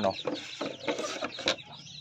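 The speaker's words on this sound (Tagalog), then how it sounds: "So ito po sila, yung mga nangingitlog na manok natin" Egg-laying hens cluck in a series of close, repeated bursts with a scratchy, mechanical edge, several calls overlapping over about two seconds with no talk.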